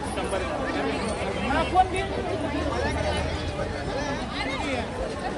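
Dense crowd chatter and hubbub at a busy Sai Baba temple palkhi procession in Nere, a steady murmur of many voices with one brief louder bump.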